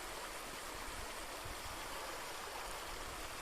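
A mountain stream where gold is panned for flows in a constant, even rush of water, close and unbroken throughout, with no voices.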